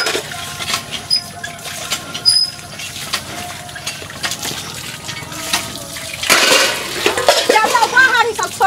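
Dishes are washed by hand at a home sink, with clinking pots and cutlery, sloshing water and scrubbing. The sounds are close and irregular, with a louder splashing run toward the end and voices faintly mixed in.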